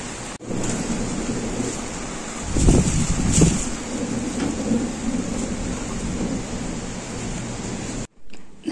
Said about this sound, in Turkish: Neredeyse 15 dakika oldu ve yağmur hala dinmedi.